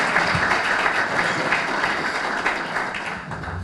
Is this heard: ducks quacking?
no